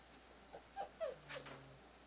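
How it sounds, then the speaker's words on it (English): A pug-chihuahua mix whines softly during leash-pressure down training, giving a few short high whimpers that rise and fall, close and quiet against a still background. "Then you hear the whining because she doesn't want to have to do whatever it is we want her to do"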